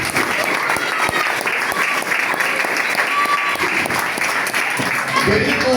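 A church congregation at an anniversary service breaks into loud, sustained applause for Jesus, continuous and close, with voices mixed into the clapping.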